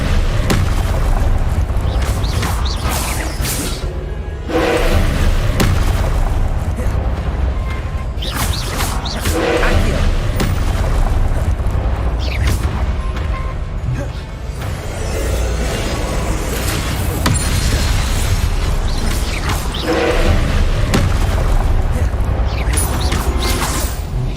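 Spells such as Levioso, Accio and Expelliarmus cast in combat in Hogwarts Legacy, repeated booming impacts and magical whooshes over a dense, loud game soundtrack, with occasional player shouts.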